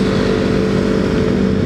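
A Kawasaki Z250 motorcycle with a replaced aftermarket exhaust and remapped ECU, its engine idling or running in a steady, close, loud rumble with no talk.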